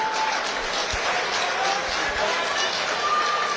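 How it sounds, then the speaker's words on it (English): Crowd applause at a boxing event, the Transatlantic Clash fight night, a dense steady wash of many hands clapping with some cheering, loud and continuous throughout. "Big round of applause for these guys."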